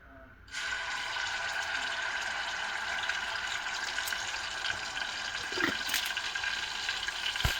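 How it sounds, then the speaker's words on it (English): Water pours steadily from a tap into gram flour for masala puri batter, a continuous splashing stream that starts abruptly and runs evenly, close by, with a faint clink or two near the end. "To the gram flour I'll be adding water and keep it ready."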